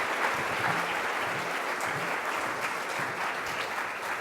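An audience at an economics lecture applauds to welcome Professor Emmanuel Saez, dense steady clapping from a large crowd that holds at an even level throughout.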